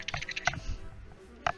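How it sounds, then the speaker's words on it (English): Fingers type on a computer keyboard, producing a few quick clusters of sharp, close key clicks separated by a short lull, with no voices. "Just your fingers typing for me."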